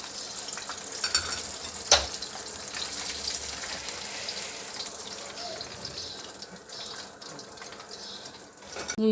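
Chicken pieces for KFC-style chicken rice deep frying in hot oil, a steady broadband sizzle and crackle with a sharp clatter near two seconds and louder bubbling at the end; a voice speaks faintly underneath.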